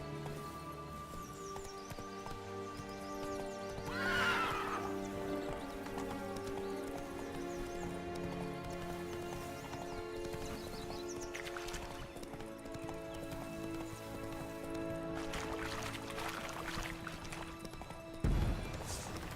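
Roach the horse from The Witcher 3: Blood and Wine, with steady clip-clop of hooves and a whinny or two over layered game music and ambience, ending in a sharp thud.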